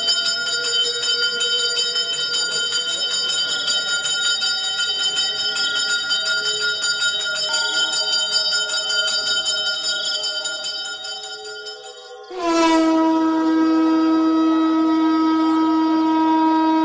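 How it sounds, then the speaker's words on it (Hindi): Temple bells ring continuously with overlapping metallic tones, then one loud fresh strike sends a long, ringing decay, close and sustained with no talk. "मंदिर की सारी घंटियां खुद ब खुद बजने लगती हैं।"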